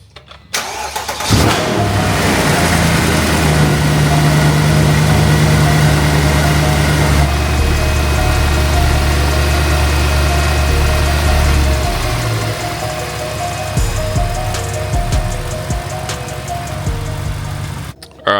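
A Mercedes C63 AMG 507 Edition cranks and fires up with a loud burst, then settles into a steady, deep idle heard up close, the engine droning on evenly to the end.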